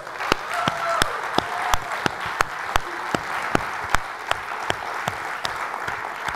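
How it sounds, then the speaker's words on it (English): Audience at a network marketing training event in Lisbon applauding: a steady wash of many hands clapping from a moderately distant crowd, with a few sharp, louder claps standing out near the microphone. "Give yourself a big applause for that."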